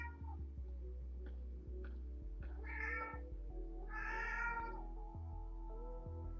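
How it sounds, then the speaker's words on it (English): A pet cat indoors gives two drawn-out meows a second or so apart, faint against a constant low electrical hum. "That's my cat."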